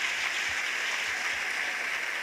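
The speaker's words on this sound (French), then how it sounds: "Offrande d'acclamation pour le Seigneur Jésus-Christ." A congregation at an evangelistic crusade applauds, with a continuous, dense wash of many hands clapping, even and sustained, heard from within a large crowd with no voice rising above it.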